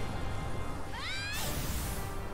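Single rising meow from a cat in the video game Gravity Rush, a short bright cry over a low steady game background, fairly faint.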